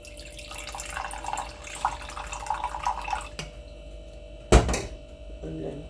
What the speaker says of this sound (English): So push that down and then just pour some in there.